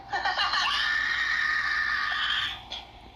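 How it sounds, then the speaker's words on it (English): A long, piercing scream rises and holds for about two seconds before cutting off, loud and shrill with no talking over it. "we all heard this scream in the background"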